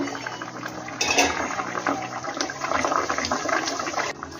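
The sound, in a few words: lid opened on ruhi fish curry boiling for five minutes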